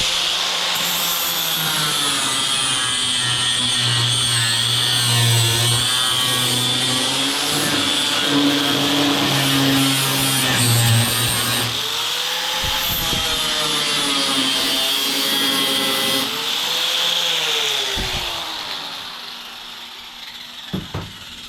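An angle grinder cuts T-strips off an MGB car body, a loud, sustained high-pitched whine with shifting pitch as the disc bites the metal, dropping off near the end.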